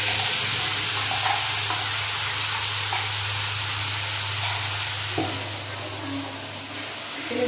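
Onion with whole garam masala, cumin and a ginger-garlic-chilli-tomato paste sizzling in oil for a pangas and tangra fish curry, a steady close frying hiss with light stirring, easing slightly toward the end.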